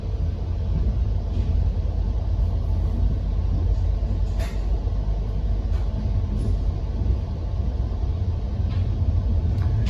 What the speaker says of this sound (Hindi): और उसके साथ हमारा पैरेलल चल रही है ट्रेन।